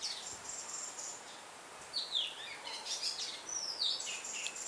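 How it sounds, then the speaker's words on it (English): Birds chirping and singing at dusk on Earth Day, with thin, high whistling calls and sweeping phrases coming and going from moderate distance over a quiet background. "bird family joining us also"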